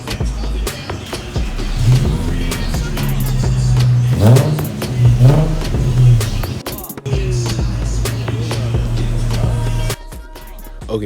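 Infiniti G35 with muffler and resonator delete, its engine idling with a deep droning exhaust note and blipped revs that rise and fall several times, loud and close, before the engine cuts off.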